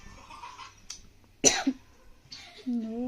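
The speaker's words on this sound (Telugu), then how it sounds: "దగ్గు వస్తుందని భయపడినా" A person coughs sharply after eating sour lemon during a family food challenge, one close, loud cough between quieter breathy sounds and brief vocal noises.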